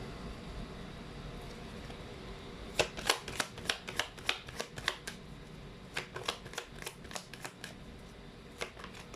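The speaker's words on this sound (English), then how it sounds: "I'm still going to be pulling up some cards here." Tarot cards are shuffled by hand in a quiet room, giving bursts of crisp, rapid flicks and riffles, close and fairly soft, in irregular clusters over a low steady background.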